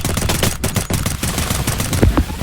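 Rapid bursts of automatic gunfire in a Thai-language video game match, dense and continuous shots at close range, with a louder low thump near the end.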